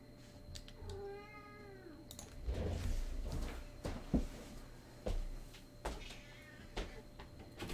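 A pet cat meows several times at close range in a quiet indoor room, giving rising and falling wavering cries between scattered knocks and thumps of handling or cupboard noise.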